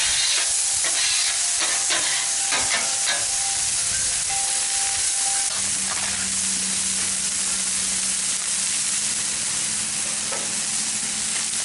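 A metal scraper works across a hot Blackstone griddle during Mongolian grill cooking, with a few quick scrapes over loud continuous sizzling and hiss of frying food.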